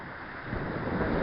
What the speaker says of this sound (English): This is where the waterfall goes from being on level ground and comes over the edge.